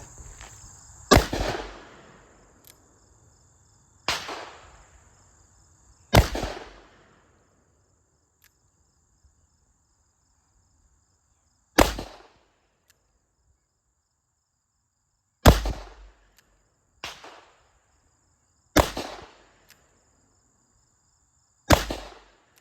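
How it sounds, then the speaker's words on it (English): Revolver shots from .357 Magnum and .38 Special 158 grain loads, eight sharp cracks spaced irregularly with quiet gaps between, loud and close with short echoing tails. "I'm gonna take 2 shots with the 357 158 grain, 2 shots with the 158 grain 38 special"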